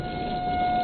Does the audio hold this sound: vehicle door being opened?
no